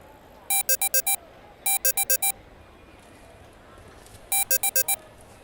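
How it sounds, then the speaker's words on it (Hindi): A mobile phone rings in a home setting, sending out three loud bursts of rapid electronic trill tones separated by pauses, with no voices over it. "ये फोन किसका बज रहा है?"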